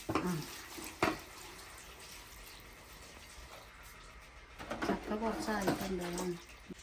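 Water poured into a cooking pot, a continuous close splashing stream in the middle of the clip, with people talking before and after and birds calling faintly.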